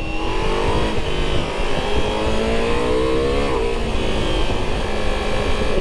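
A Ducati Multistrada V4 S motorcycle accelerates hard on the road, its engine note rising through the revs under steady wind roar, heard from the rider's position.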